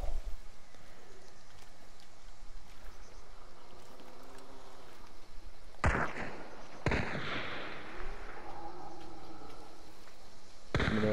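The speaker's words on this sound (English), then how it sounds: "Should I throw a chaos bomb off to the northeast to make the gunshot sounds?" A thrown chaos bomb in a multiplayer shooter game lets off a string of crackling, popping gunshot-like bursts, loud and close, with two sharp heavy blasts partway through over a busy game background.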